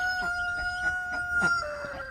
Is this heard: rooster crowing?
yes